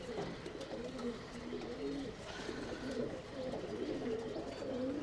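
Tumbler pigeons coo steadily in a loft, a continuous low rolling cooing from several birds close by, with faint background murmur.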